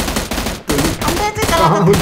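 Rapid bursts of gunfire in the video game BGMI crackle in quick succession, loud and dense, with short pauses between volleys.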